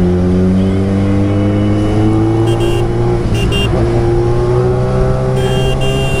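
Suzuki Hayabusa motorcycle engine droning loudly and steadily with a rising pitch as it accelerates on the road during a ride, continuous and close.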